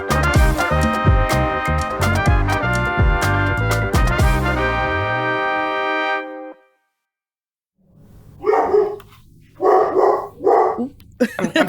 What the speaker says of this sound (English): You've got dogs barking.